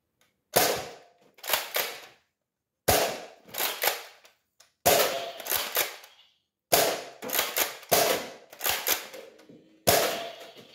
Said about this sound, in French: Le tir sur cible, je vais créer 6 X-Shots.